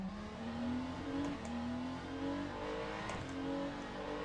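Ferrari 296 GT3 race car engine in Le Mans Ultimate at Monza, accelerating with a rising whine that drops at each upshift, steady and sustained with no talk.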